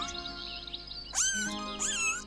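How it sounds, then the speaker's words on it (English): A cat meowing twice, two short rising-and-falling calls heard up close over a steady tonal music-like background with no talking. "Cat and kitten."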